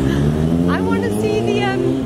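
Traffic circling the Arc de Triomphe roundabout in Paris, with a steady close rumble of car engines and rising revs, overlaid by people talking nearby throughout.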